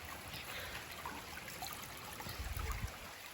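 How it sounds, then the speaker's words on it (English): At night, storm runoff rushes through an overgrown garden pathway under bean plants, a faint, steady trickling flow with a few louder gurgles near the end. No voices are heard. "I thought that the water was being diverted elsewhere, but it's going through our pathway."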